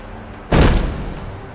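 A single gunshot in the A Way Out video game, a sudden loud boom that decays over about a second, heard alone with no talk.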